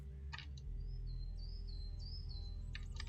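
Birds chirp in the video game Sir, You Are Being Hunted, with short high tweets at the start and end and a thin whistling call in between, all faint above a steady low rumble.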